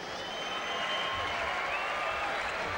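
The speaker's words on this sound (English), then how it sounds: "Could you please keep a round of applause going for both sides" A crowd applauds steadily at the 1995 Manly Warringah Seagulls v Fiji rugby sevens final, a continuous, even wash of distant clapping with no break across the stretch.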